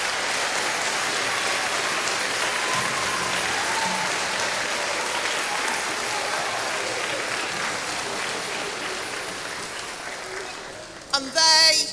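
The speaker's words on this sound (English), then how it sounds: "So, round of applause for the staff team," Sustained applause from a school carol concert audience for the staff team, a broad, even roar of many hands clapping that runs for over ten seconds before a sudden louder burst at the end.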